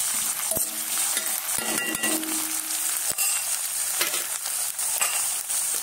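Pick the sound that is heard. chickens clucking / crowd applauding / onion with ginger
onion with ginger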